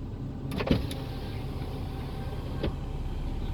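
A repaired power window on a Proton Waja hums steadily downward with its electric motor, starting with a click and clunk and ending with a soft thud, heard up close inside the car with no talking.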